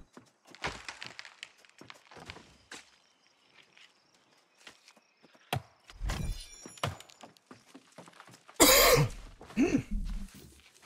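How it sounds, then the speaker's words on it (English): A person with a dry cough clears their throat and coughs in several short, harsh bursts, close by, mixed with scattered thumps, footsteps and knocks. "I've got an annoying dry cough"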